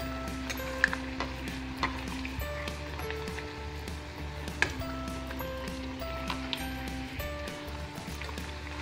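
Matri biscuits deep-fry in hot oil with a steady, quiet sizzle and fine crackle, broken by a few small clinks and stirring sounds, and no talking.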